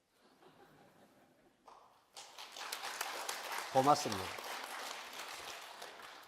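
Church congregation applauding during a Sunday afternoon praise service, a dense wash of clapping building up and sustained after a short spoken thanks, with a few chuckles and voices mixed in.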